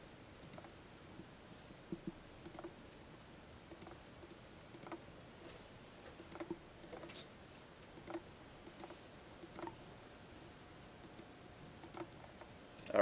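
Computer keyboard typing during a programming lecture, with irregular clustered keystrokes and short bursts of clicks spread steadily across the span, close and moderately loud with no voice over them.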